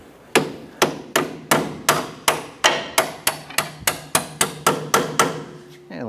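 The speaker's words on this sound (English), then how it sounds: "tap the bolt on the other side." A hammer taps a front lower control arm bolt through on a 2008-2012 Honda Accord. About fourteen loud, ringing metallic strikes fall in a steady, even rhythm, close by, with no talking over them.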